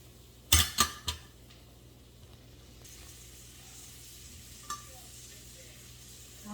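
Cherry tomatoes cooking in a hot pan, with a few sharp clanks of a utensil at the start and then a faint, steady sizzle running quietly in the background.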